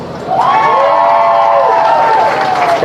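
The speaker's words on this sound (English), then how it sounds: "Got a big cheer out." A high school football crowd in the stands lets out a loud, sustained cheer with whoops, rising quickly and holding for a couple of seconds.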